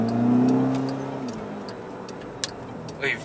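Volkswagen Scirocco 2.0 TSI accelerating, engine tone rising then fading as it pulls away, followed by faint cabin ticks and a soft click, with no talking.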